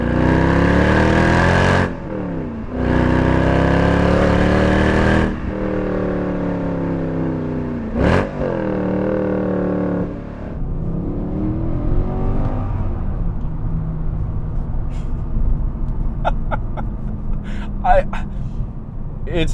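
A manual-swapped Mercedes C63 AMG revs loud and close while driving. Its engine climbs through gears, with brief dips at each shift, then settles into a lower cruising drone, and voices are heard over it.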